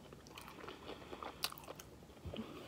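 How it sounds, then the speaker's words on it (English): Lemon pepper chicken wings with Tabasco being bitten and chewed close up, soft crunchy bites and wet mastication sounds in a quiet room, with no talking. "And I'm gonna eat those three with some Tabasco."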